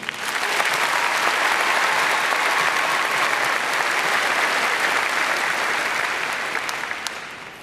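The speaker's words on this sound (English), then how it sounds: "can we give them one round of applause for all those people?" Graduation audience applauding at a high school ceremony, a dense, loud, continuous wash of clapping from a large crowd that holds steady for several seconds and then tapers off near the end.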